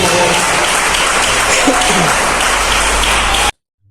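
A church congregation claps hands together, a dense, steady wash of applause filling the space loudly until it cuts off abruptly near the end.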